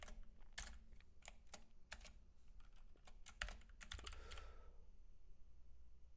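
Someone types on a computer keyboard in a conference room, a close series of crisp key clicks in uneven bursts that stop near the end, leaving quiet room tone.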